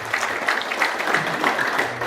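Moderate, steady audience applause during a bishop's address at an Ethiopian Orthodox church gathering, heard as a continuous dense patter of many hands without talk over it.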